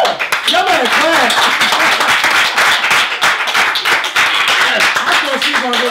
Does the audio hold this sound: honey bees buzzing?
no